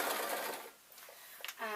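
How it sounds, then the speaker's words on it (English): A domestic sewing machine stitches a 1.5-inch strip of fabric together for binding on a lined waistcoat, giving a short, close run of rapid mechanical whirring that stops briefly before a final burst. "I'm going to sew it together"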